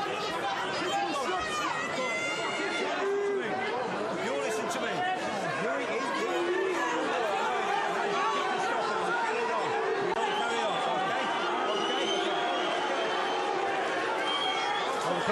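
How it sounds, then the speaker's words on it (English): A boxing arena crowd reacts with disapproval after a foul, a continuous loud murmur of voices, shouts and jeers rolling steadily throughout. "Crowd don't like it."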